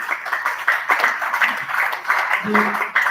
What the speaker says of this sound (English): Let's clap for ourselves again